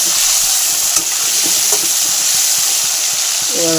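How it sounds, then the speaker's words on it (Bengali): Potatoes fry in a pan with turmeric, giving a steady close sizzle and hiss that carries on unbroken, with occasional faint stirring clinks. "এবার আলুটা একটু ভাজা হোক।"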